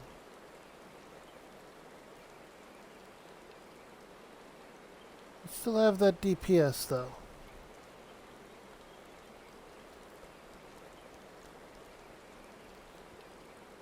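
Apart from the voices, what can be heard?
rain in the video game Final Fantasy 14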